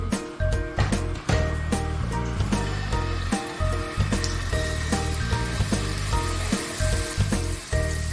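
Prawns fry in a covered pan with a loud, steady sizzle of hot oil. Crackling pops spatter through it close by, and no one speaks.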